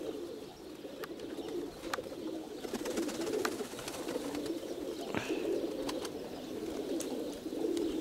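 Pigeons in a loft coo steadily in a low, murmuring chorus, with occasional sharper bird calls and clicks over a continuous background hum.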